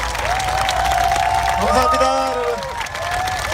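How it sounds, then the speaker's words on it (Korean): Applause and cheering from an audience at a Korean political talk event, a dense wash of clapping and crowd noise throughout, with a voice speaking over it. "세 분께 다시 한번 큰 박수"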